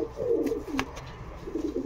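Pigeons coo in a pigeon loft, soft throaty rolling calls rising and falling near the listener, with a brief sharper noise in the middle and faint background rustle.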